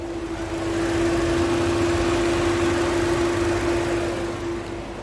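A Chevrolet Trax 1.4 diesel engine idles close up with the hood open, a steady, even hum and a constant low drone, no voices.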